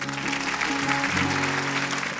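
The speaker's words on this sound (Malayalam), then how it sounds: "എല്ലാവരും ഒരു കൈയടി കൊടുക്കണം" A studio audience on the Malayalam TV singing show Super Star, Amrita TV, gives dense, steady applause. Sustained musical tones hum beneath the clapping throughout.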